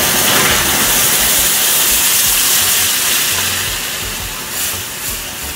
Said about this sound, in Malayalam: ഈ സമയത്ത് നമ്മൾ തിളപ്പിച്ച് വെച്ചിരുന്ന 1/4 കപ്പ് വെള്ളം ഞാൻ അതിലേക്ക് ഒഴിക്കുക.